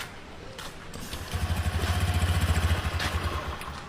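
A new motorcycle engine with bad fuel sputters unevenly, then settles into a brief rapid pulsing chug that fades as it falters toward a stall, heard close by.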